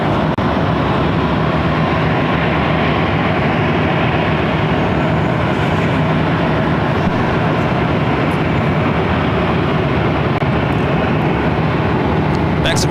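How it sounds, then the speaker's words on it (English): A United Express SkyWest airliner arriving at LAX makes a continuous, loud, even roar of jet engine noise that neither builds nor fades. "Next arrival is United Express Sky West, flight 4750, coming in from Fresno."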